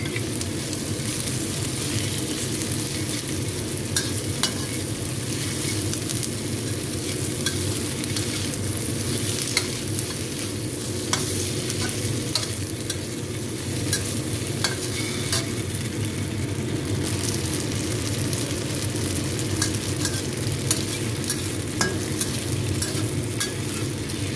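Tofu and garlic fry in a hot pan for an eggplant dish, a steady dense sizzle with crackling spatters and occasional stirring scrapes running unbroken throughout, loud and close.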